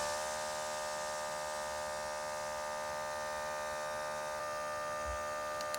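A Mercedes S-Class vacuum pump runs with a steady, close electric hum and buzz that holds constant throughout, with no voices.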